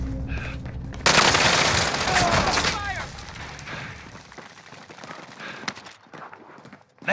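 Gunfire rattles in Call of Duty Modern Warfare, starting as a loud, dense burst of rapid shots that trails off into scattered, fainter cracks, with a voice talking over part of it.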